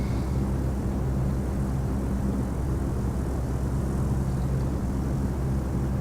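A light airplane in the Dovetail Flight School game flies level, its engine a steady, unchanging drone and airflow hum that continues throughout at moderate volume.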